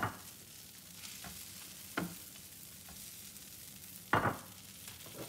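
Butter melting in a pan before shrimp go in for camarones a la diabla, a soft low sizzle broken by three or four brief louder scrapes or clatters, quiet and close, no talking.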